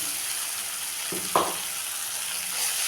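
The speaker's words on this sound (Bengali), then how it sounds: "দিয়ে আমি এখন এটাকেও ভালো করে একটু কষিয়ে নেব।" Spice paste made with milk sizzles steadily in a pan for a paneer and cauliflower curry, a loud continuous hiss broken by a couple of brief stirring knocks.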